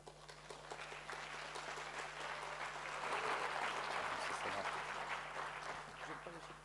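Thunderous applause from a large audience at a citizens' awards evening in the Province of Namur, a broad, sustained wash of clapping that swells in the middle, heard at a distance with voices mixed in.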